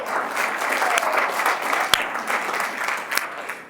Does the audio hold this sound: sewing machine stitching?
no